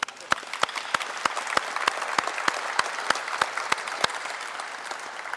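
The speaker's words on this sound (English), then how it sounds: "So give yourselves a round of applause." Applause from the audience at a Boy Scout Troop 66 Eagle Court of Honor in a cathedral, a steady crowd of clapping hands with several loud, rhythmic claps close by cutting through the roomy wash.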